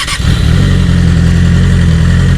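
A Yamaha R6 sport motorcycle revs loud and close, a brief blip at the start settling into a steady, strong engine drone with a deep harmonic rumble throughout.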